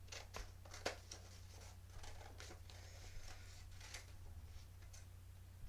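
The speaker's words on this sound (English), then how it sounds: "And then I'm going to cut these into thin strips." Scissors snip paper into thin strips with a series of quick, faint, close-up clicks and crisp cuts at an uneven rhythm, over a low background hum.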